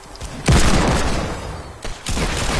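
Gunfire in a video game solo tournament: a loud, close burst of shots followed by a sustained rumbling roar, then a second burst near the end.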